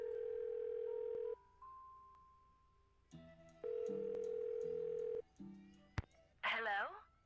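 Telephone tones in the Nancy Drew video game: a steady tone, then a quick series of dialing beeps and repeated ring signals, followed briefly by a voice at the end.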